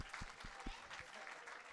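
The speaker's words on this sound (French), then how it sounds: "on peut quand même les applaudir encore une fois" An audience at an Easter church service gives a round of applause, fairly faint, with a few distinct claps standing out over softer scattered clapping in a reverberant room.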